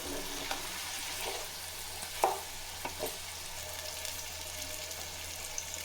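Raw plantain slices frying in oil, stirred with a wooden paddle: a steady, moderately loud crackling sizzle broken by a few clear knocks and scrapes, one sharper clack near the middle, with no voices.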